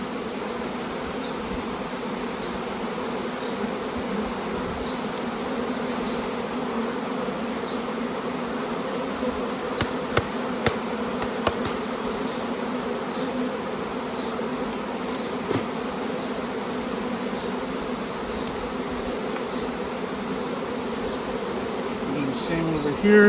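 Many honey bees in a queen-rearing starter colony give off a steady, dense, close-up buzzing drone that continues without a break, with a few faint clicks and a low voice in the background.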